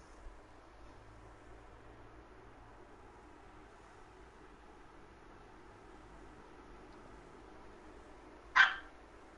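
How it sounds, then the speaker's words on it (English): A small dog somewhere in the background gives a single short, sharp yip near the end. The rest is a quiet, low hiss. "I hear that yip yapper in the background"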